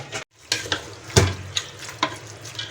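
Beef and spices for resha kabab are mixed by hand in a pot, giving a string of wet, sloppy squelches and scrapes at an irregular pace, close and moderately loud.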